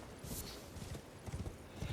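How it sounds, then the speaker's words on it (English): Hooves of a ridden horse in the Elden Ring video game, a rapid rhythmic clip-clop galloping beat at moderate loudness, with faint background game sounds and no speech. "Riding my horse into a building, nobody can do shit."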